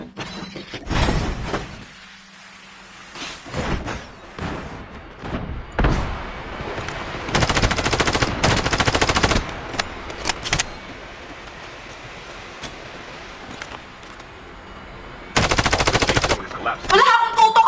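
Gunfire from a gun in the Call of Duty video game comes in several loud bursts of automatic shots spread across the clip, mixed with other game sounds and some quieter stretches.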